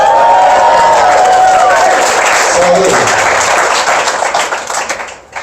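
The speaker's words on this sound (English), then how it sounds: "I just love to generate cheap applause" A comedy club crowd at Comedy on State breaks into loud, close applause with cheering and a few whoops. The sound stays full for several seconds, then thins out as a comedian starts talking again.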